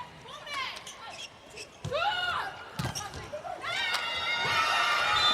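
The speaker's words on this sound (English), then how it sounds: "Hear the screams from the Turkish team." Players on the Turkish women's volleyball team shriek and shout during a Nations League match against Poland, sharp high-pitched cries in bursts, with a ball impact and arena crowd noise underneath.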